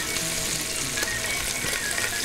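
Pancetta frying in a pan for carbonara, a steady close sizzle with fine crackling throughout and no talk.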